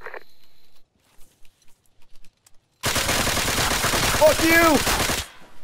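Gunfire in the military shooter Arma 3: a few scattered quiet pops, then a loud, sustained stretch of rapid automatic fire and overlapping shots lasting several seconds. A voice shouts briefly during the firing.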